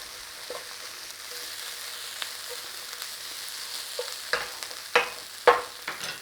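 Bacon and leeks frying over a moderate flame, with a soft, steady sizzle and a few sharper scraping stirs growing louder toward the end.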